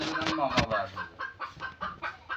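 Chickens clucking nearby in a series of short, rhythmic calls, one louder burst early on, fairly faint overall.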